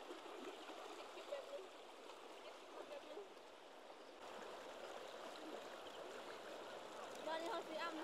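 Running water flows steadily throughout, a soft, fairly distant trickling wash that grows a little louder toward the end, with no one speaking.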